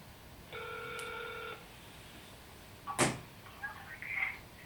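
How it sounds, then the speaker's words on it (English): Phone call placed to a free number: a steady electronic tone holds for about a second, then a sharp click and a few faint rustles and beeps follow. "Let's dial the number."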